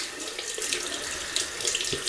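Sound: running water to soak a synthetic shaving brush

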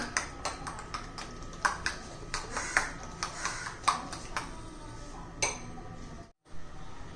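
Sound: beating eggs in a bowl for egg paratha

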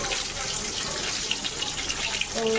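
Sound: washing fish under running tap water

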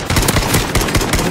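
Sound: gunfire in a video game

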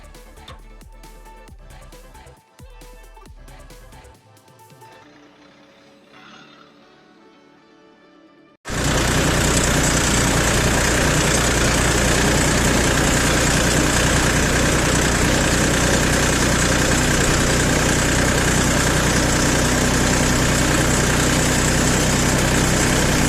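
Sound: YTO 244 SX tractor engine during spring cultivation

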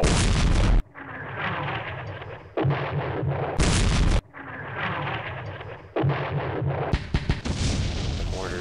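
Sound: mortar fire in a World War II strategy video game

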